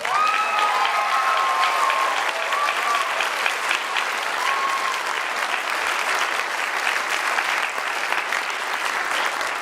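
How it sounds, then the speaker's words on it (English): An audience at an evening variety show claps in sustained, full applause for the night's acts, with a few whistles and cheers rising above the clapping. "let's give a round of applause to all of our acts this evening"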